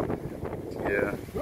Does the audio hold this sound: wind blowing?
yes